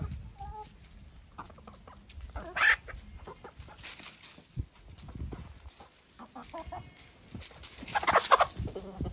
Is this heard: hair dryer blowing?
no